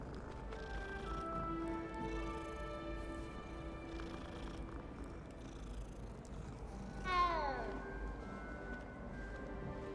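A cat meows once in the video game Hogwarts Legacy, a short falling cry rising clearly above steady game music and background voices.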